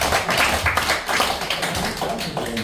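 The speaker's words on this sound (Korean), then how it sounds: "다시 한번 큰 박수 부탁드립니다." Audience applause at a clan association board meeting in Busan, a dense, steady clatter of many hands clapping at fairly close range and holding at an even level throughout.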